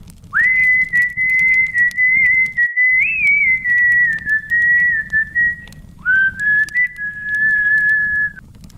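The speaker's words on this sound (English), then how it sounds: "I whistled again" One person whistles two long, steady sustained notes with a short break between, clear and close, over faint background noise.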